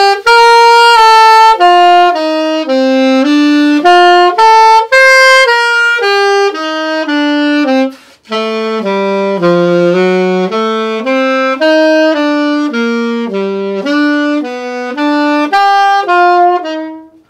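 A piano plays a slow sequence of jazz chords, each one sliding smoothly into the next, sustained and clear with a brief pause midway.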